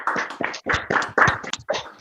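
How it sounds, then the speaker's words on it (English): Applause from webinar participants over their microphones, a short patter of several hand claps, slightly distant and uneven. "Please, you might turn off your mics and give an applause so you can hear it a bit distant."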